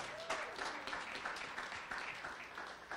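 Audience applause for hosts at an evening event, a faint, distant, continuous wash of clapping with murmuring voices in the room.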